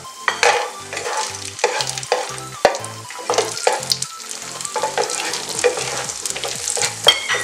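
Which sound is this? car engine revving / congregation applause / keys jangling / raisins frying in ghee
raisins frying in ghee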